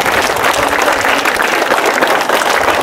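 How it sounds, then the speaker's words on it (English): A school audience applauds donors at a Dominica school ceremony: dense, steady clapping from many hands, loud and sustained throughout with no pause. "I'd like the school to give them a big hand of applause to their family."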